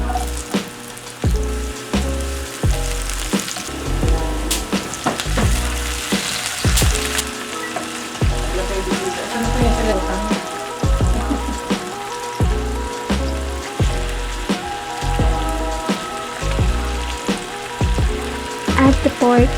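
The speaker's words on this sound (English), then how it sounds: "Sauté the garlic, onions, and tomatoes" Garlic, onions and tomatoes sauté in canola oil in a pan over medium-low heat for spicy Filipino Bicol Express, giving a steady close sizzle and crackle with occasional stirring clatter throughout.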